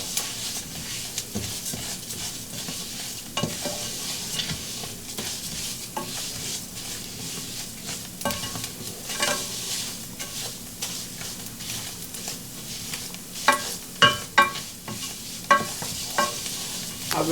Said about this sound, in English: On stirring so we don't burn our rice.